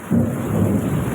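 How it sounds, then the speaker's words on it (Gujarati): A loud, close thunder crack bursts out suddenly during a storm and rolls on briefly, with rain hissing underneath. "વીજળીના કડાકા એવા થાય"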